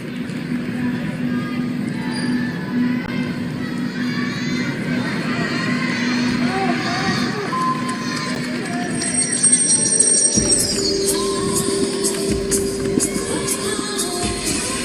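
Crowd murmur swells at a women's gymnastics championship session in the US, a dense continuous babble of spectators filling a large arena, growing slightly louder partway through.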